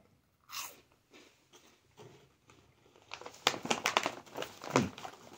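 Crunchy cheese snack balls, Blazing Foods "Crack Balls", bitten and chewed close up, with a few quiet crunches at first and then a louder run of crisp crunching and chewing toward the end.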